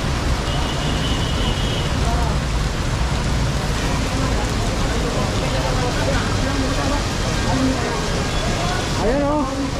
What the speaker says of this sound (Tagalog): napakalakas ng ulan ngayon.